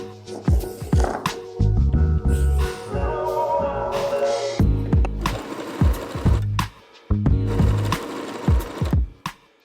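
Sewing machine zigzag stitching fabric, with short irregular bursts of loud mechanical clattering broken by brief pauses and handling knocks.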